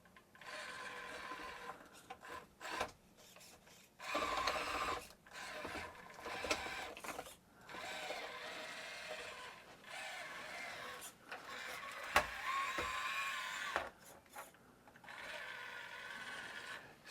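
A CCxRC Mighty Eagle micro servo on a 1/18 scale RC crawler whirs in short, repeated bursts with pauses between, a faint mechanical buzz alone with no talk.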